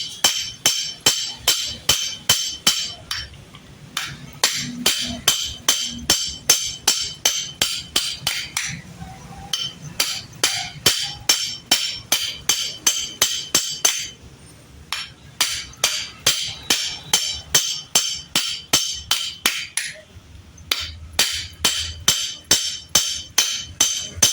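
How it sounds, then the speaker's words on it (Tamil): Rivets on a motorcycle clutch bell for a Splendor or Passion are hammered in a fast, sharp metallic rhythm, with rapid strikes in bursts broken by short pauses. "எல்லாம் ரிவீட் அடித்தாச்சு, ஃபுல்லாக பஞ்ச் நல்லா பண்ணோம்."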